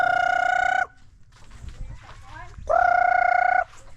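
A chicken gives two long, loud, sustained calls separated by a pause filled with softer scratchy clucking and background noise.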